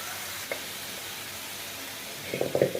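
Mutton and broth poured into a hot pan for Tamil mutton gravy, giving a steady soft sizzle throughout with a few louder spattering bursts near the end.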